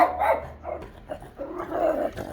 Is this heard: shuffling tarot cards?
no